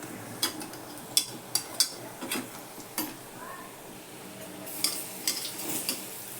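Urad dal medu vada frying in oil over a low flame, with a soft, steady bubbling hiss under sharp clicks and taps of a utensil against the pan at uneven intervals.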